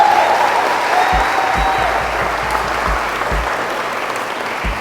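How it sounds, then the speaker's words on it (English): Guests at a wedding applaud the newly married couple with sustained, dense clapping from a full room, steady and loud throughout, with low thumps scattered underneath. "let's give the happy couple a rousing round of applause"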